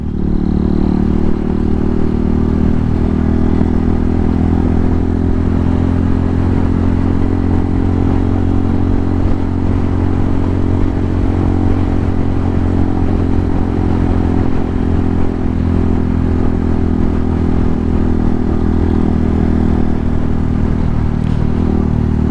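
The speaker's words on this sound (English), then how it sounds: "This bike is really loud for what it is." A Honda Hawk 250 motorcycle cruises on the highway, its engine droning loud and steady at constant speed, mixed with wind and road roar, no voices.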